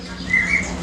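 A ceketer songbird gives a single short, clear chirp close by against a steady background hum.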